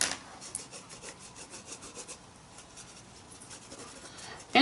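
A Stabilo pencil rubs steadily across paper in close, continuous scratchy strokes with a soft rhythmic texture while adding colour to a painted piece.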